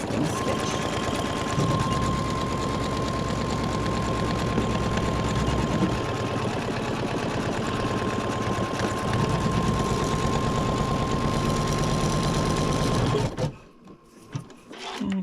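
An embroidery machine rapidly stitching a basting stitch on a dog poop bag, a fast, even mechanical rattle with a steady tone, close and continuous until it stops abruptly near the end.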